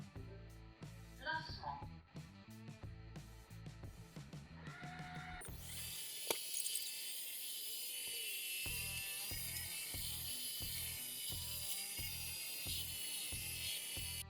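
A 360 S10 robot vacuum cleaner starts up on a carpet, beginning with a series of mechanical whirs and clicks, then settling into a steady, loud, high-pitched hum with a rhythmic underlying pulse.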